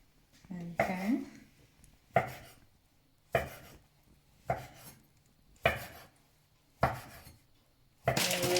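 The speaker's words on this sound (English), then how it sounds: "Cut them into small pieces." A knife chops dumpling dough into small pieces on a board, with seven sharp, close cuts spaced about a second apart and faint talk between them.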